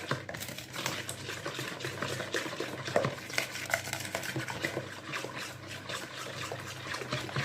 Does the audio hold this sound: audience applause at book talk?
no